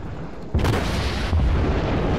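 Warship guns fire in World of Warships with two heavy booms about three-quarters of a second apart over a loud, steady roar of battle, with no talk.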